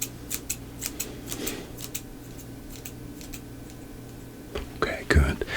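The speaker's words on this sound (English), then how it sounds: "I need you to tell me when you can no longer hear the snips anymore." Scissors snip close to one ear during a house-call cranial nerve hearing check, a run of faint, crisp clicks spaced irregularly, growing louder near the end, with soft whispered talk underneath.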